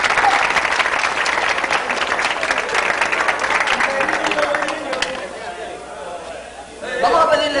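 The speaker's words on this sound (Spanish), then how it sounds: "Vamos a dar un fuerte aplauso al Brujito" Loud audience applause fills a comedy show of jokes and impressions, dense clapping that thins out after about five seconds into crowd murmur and voices, then swells briefly again at the end.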